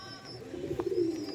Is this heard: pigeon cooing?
yes